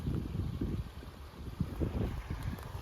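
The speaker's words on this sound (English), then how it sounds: "Came down beside the creek, obviously, as you probably can hear." A mountain creek beside a backcountry trail rushes steadily nearby, a continuous low, broadband wash of flowing water with no voices.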